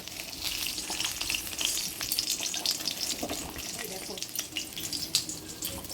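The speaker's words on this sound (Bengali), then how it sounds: "মাছটা আমার প্রায় ভাজা হয়ে গেছে" Fish frying in hot oil in a home kitchen, a steady close sizzle with crackling bursts and occasional scraping stirs throughout.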